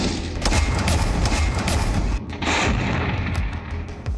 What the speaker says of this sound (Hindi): दुनिया की सबसे दमदार तोप पर मेड इन इंडिया का ठप्पा